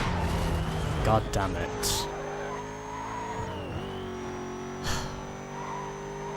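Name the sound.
cars racing and skidding in Need for Speed: Most Wanted video game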